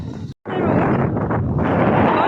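Cold wind blows outdoors on an icy Canadian street in winter, a loud, steady rush of gusts buffeting the microphone, broken by a brief cutout near the start and then continuing unbroken.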